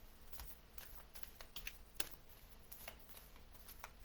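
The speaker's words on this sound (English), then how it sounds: "As I shuffle the cards" Oracle cards being shuffled by hand, a soft, quiet run of papery taps and riffles with a few sharper flicks, steady for a few seconds with no talk.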